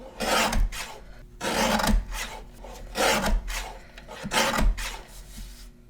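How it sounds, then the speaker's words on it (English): Paper trimmer cutting down a cardstock panel, four distinct rasping slicing strokes spaced about a second apart, close and fairly loud with quiet gaps between. "I'm going to trim down about 1/8 of an inch all the way around my panel"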